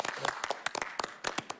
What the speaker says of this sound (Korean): 서로를 쳐다보면 한번 박수 한번 치시면 어떨까요?